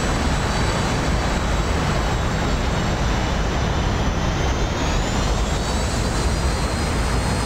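Steady, loud jet-like engine roar from a Y-Wing craft in the DCS flight simulator, droning continuously with a slight pitch shift as it climbs away from the airfield.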